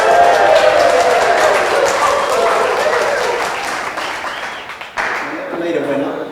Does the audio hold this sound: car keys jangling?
no